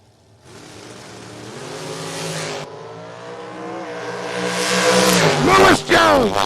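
Drag racing machines at a Pipe Rack Nationals and Jr. Dragster event launch down the strip, engines revving loud and rising in pitch before sharp gear shifts near the end, with announcer talk running over them.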